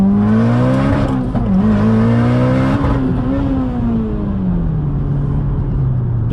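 A car engine revs hard and climbs in pitch, dips briefly on a gear shift, then pulls again before easing down, loud and close throughout with no voices.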